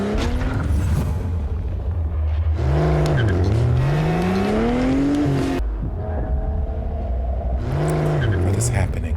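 A race car from an anime series revs hard with rising and falling engine tones and squealing tires, loud and close, while people talk over parts of it.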